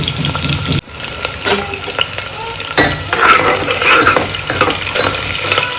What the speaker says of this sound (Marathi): छानपैकी ब्राऊन कलर येऊपर्यंत हा कांदा नाही का आपल्याला होऊ द्यायचा तेलामध्ये